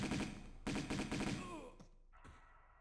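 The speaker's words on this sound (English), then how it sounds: "Now who's shooting at me?" Gunfire in Tomb Raider 2 Remastered, in the Opera House level: two loud bursts of rapid shots close together, with a fainter trailing thump and a brief sound after.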